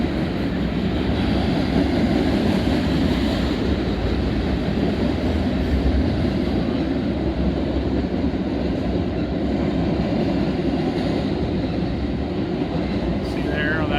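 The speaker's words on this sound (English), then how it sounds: "This train originated in Elkhart and it's going to Bellevue." Train running from Elkhart toward Bellevue near Oak Harbor, Ohio, giving a steady, loud rumble of rolling railcars for the full length, with voices talking faintly over it.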